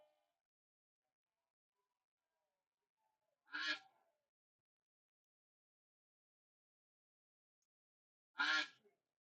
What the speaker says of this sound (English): I hear it quacking.